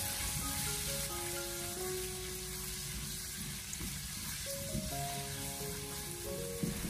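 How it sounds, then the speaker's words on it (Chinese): Pork slices stir-fry in a wok over low heat for a cucumber and pork dish. A soft, even sizzle runs quietly beneath sustained musical tones, with an occasional faint utensil tap. "开小火给它翻炒一下，先把肉片翻炒至变色"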